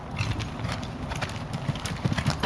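Horse hooves clip-clop in a steady rhythm during a showjumping lesson at a clinic, moderately close and fairly loud, with occasional snorts and faint outdoor background noise.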